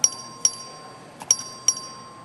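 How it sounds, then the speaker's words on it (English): A voting bell on the Texas House floor rings in four sharp, bright strikes at uneven intervals, each ringing out briefly in a quiet hall with no talking. "The clerk ring the bell."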